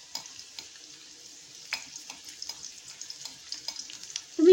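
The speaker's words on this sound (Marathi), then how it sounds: "लसणीच्या पाकळ्यांना छान अशा शिजू द्यायच्या." Garlic cloves frying in oil for amla pickle, a soft steady sizzle with scattered stirring clicks, ending in a louder scrape.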